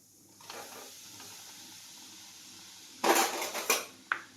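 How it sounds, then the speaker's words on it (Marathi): Besan gram flour tipped into hot oil to roast for laddoos, with clattering of a metal pan and utensils, a quiet stretch, then a burst of scraping and clinks at close range. "आता तेल गरम झालेलं आहे, बेसन पीठ टाकून घेते."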